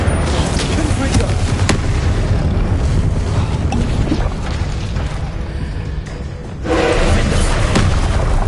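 Fire and blasting spells from Hogwarts Legacy land in a loud, continuous rumble of booming impacts and roaring bursts, with a brief dip in the middle before the clamor surges back.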